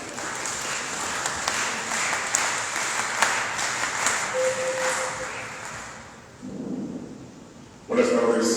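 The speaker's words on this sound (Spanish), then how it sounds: "Recibámoslo con un aplauso" Audience applause greets a speaker being introduced at a party tribute event in honour of Víctor Raúl Haya de la Torre, a steady wash of clapping that fades and then swells again near the end.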